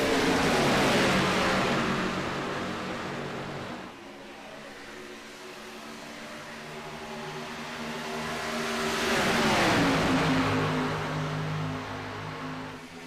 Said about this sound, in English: And they are off, folks, as they'll rip through the gears.